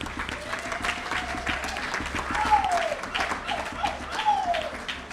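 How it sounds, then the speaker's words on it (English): An audience at a fall sports banquet applauds in a steady dense wash of clapping, with a few voices and whoops mixed in. "Nice round of applause for them."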